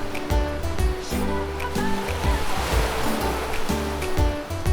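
Sea waves wash onto Devbag beach on the Konkan coast, a loud, steady roar of surf with rolling bursts of breaking water, close by and with no voices.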